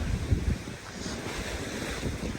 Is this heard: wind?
yes